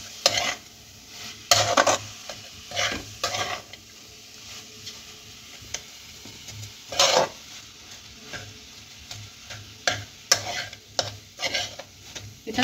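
Lumps of jaggery are stirred in a pan for Gokul Pitha, with soft scraping strokes and occasional louder metallic clinks of a spoon against the pan over a low sizzle, irregular and close.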